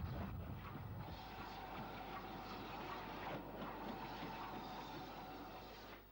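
A steam train rumbles steadily into a station at moderate distance, a continuous low mechanical roar with faint clatter throughout; a steam-hauled London suburban service.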